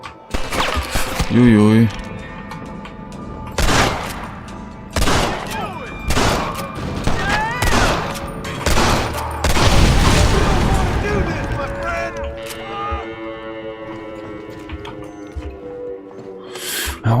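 Rifle shots and bursts of gunfire ring out in the Western video game Red Dead Redemption, sharp repeated cracks with booming tails and in-game clatter, while someone talks and exclaims over the action.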